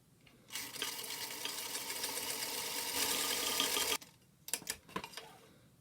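A sewing machine runs a steady top-stitching seam along a fabric face mask panel for three and a half seconds, then stops abruptly, followed by a few short bursts of stitching and handling.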